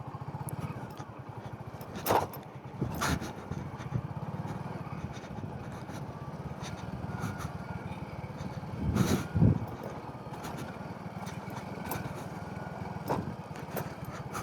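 A motorcycle is ridden down a steep mountain road while the rider strains to hold it back. The engine gives a low, rough idle-like rumble throughout, with occasional knocks and bumps, heard close and moderately loud, without talking.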